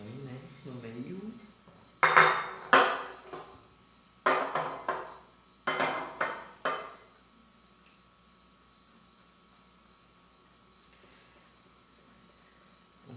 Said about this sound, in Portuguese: Ralar um queijo.